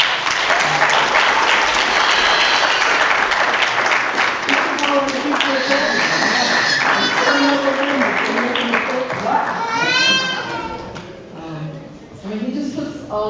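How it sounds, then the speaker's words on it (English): An audience at a recital claps in a sustained round of applause, steady and full at first, then thinning, with a few voices and a high whistle-like tone rising over the clapping near the end. "I want for all of us to give him a round of applause"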